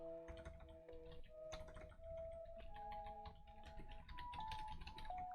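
Keystrokes tapped on a computer keyboard while entering guesses into a Wordle-style game, heard as a faint, quick run of clicks over a steady tonal background with no talking.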